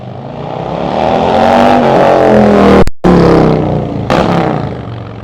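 A loud, close motorcycle engine with a TAB Performance Redline Series 2-into-1 exhaust revs up through rising pitch, cuts abruptly for a split second, then roars again and gradually eases off.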